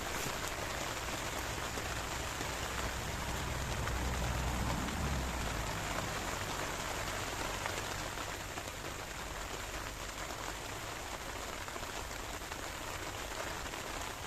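Steady rain pours down beside a Fenland drain during a pike fishing trip, a dense, even hiss of drops on surfaces that continues throughout.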